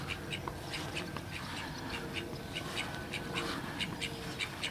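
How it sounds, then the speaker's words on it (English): Repeated nasal quacks and squawks from several call ducks, fairly close in a garden, over steady outdoor background noise. "These are call ducks."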